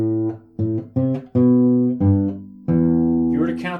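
Guitar playing a riff, a series of low plucked notes including an open sixth string, separate notes in a syncopated rhythm, close and clear with no talking.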